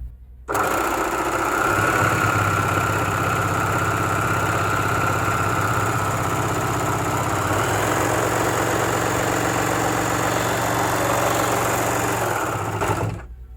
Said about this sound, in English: So beautiful overlocking stitch from the off, so I haven't had to adjust anything or do anything, it's just stitched perfectly